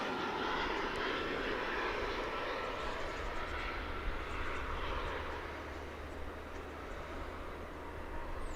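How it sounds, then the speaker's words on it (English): An American Airlines Airbus A320 jet passes near DFW Airport, a loud, broad engine roar that holds steady and eases slightly toward the end, with no voices. "That Airbus A320 was American Flight 2862."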